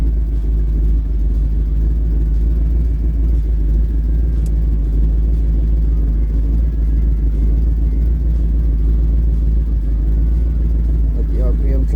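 Car engine idling steadily just after fresh spark plugs and a bit of choke, a constant low rumble running throughout with people talking over it.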